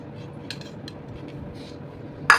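A metal ladle scoops chutney from a pot, with faint scattered clinks followed by one louder, sharp metallic scrape near the end, all close by and with no talking.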